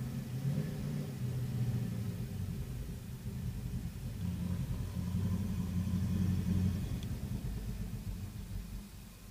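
A petrol car stuck in place revs repeatedly while unable to drive off, a steady low engine rumble swelling and easing for several seconds, heard from nearby outdoors with no talk.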